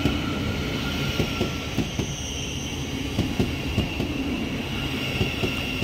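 A Class 700 electric train sets off on a service from Cambridge to Brighton, heard as a steady rumbling roar with faint wheel clicks and rail noise, close and continuous with no talk.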